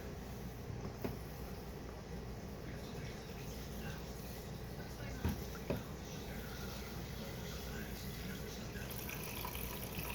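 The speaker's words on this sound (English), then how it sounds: "So now I'll put some water in it." Steady running water pours from a tap, a continuous broadband rush with a couple of faint clinks partway through.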